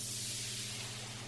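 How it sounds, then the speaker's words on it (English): A stock Ableton riser sample, treated with reverb, delay and stereo width, gives off a steady, faint wash of hissing noise that swells evenly through the short stretch. "there's this riser, which is a stock Ableton sample"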